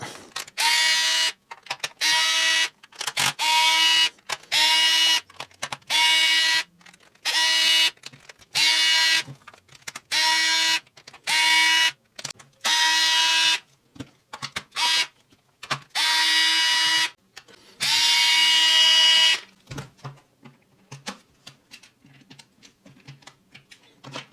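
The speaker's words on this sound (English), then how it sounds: "I need to remove another 10 screws" A cordless driver backs screws out of a Parkside Performance cordless hammer drill during disassembly, with repeated short bursts of whirring motor and ratcheting, about a dozen runs separated by brief pauses.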